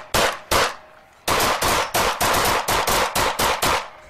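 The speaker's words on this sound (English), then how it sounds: "you're going to hear the actual gunshots" Gunfire from two police officers in a recorded real shooting incident: about ten loud, sharp shots, two early isolated reports, then a rapid steady volley of eight closely spaced bangs, alone without talk.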